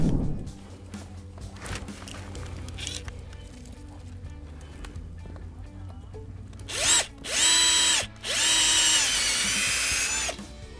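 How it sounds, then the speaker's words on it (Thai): A power drill bores into a young Huang Hua Li rosewood trunk in a durian orchard, with quiet handling noise first and then three loud whining bursts close by, the last one long and sustained. "เดี๋ยวผมจะเจาะให้ดูเลยนะฮะว่า"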